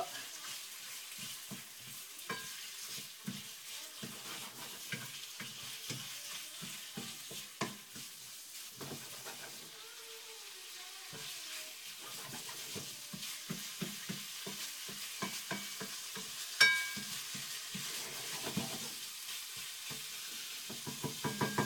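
Chicken cooks in olive oil in a pan over high heat, giving a low, gentle sizzle broken by frequent crackles, pops and utensil taps, with a brief quieter stretch in the middle.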